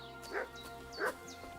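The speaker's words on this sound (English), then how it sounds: "A few dogs." Two distinct dog barks ring out in the medieval world of Kingdom Come: Deliverance 2, somewhat distant, with faint high chirps and a low steady hum beneath.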